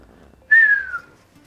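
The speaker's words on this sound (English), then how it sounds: "It's amazing how good I've got at whistling." A single clear whistle, a smooth descending tone lasting about half a second, close and fairly loud against a quiet background.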